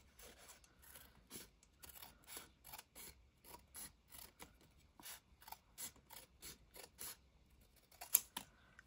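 Scissors cut along a paper strip for a craft binder edge in a steady series of close, crisp snips and paper rustles.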